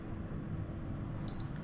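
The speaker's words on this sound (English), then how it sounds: "And there we go, the second time beep sound." A single short electronic beep from a PS5 console sounds near the end, clear and high-pitched, over a low steady background hum.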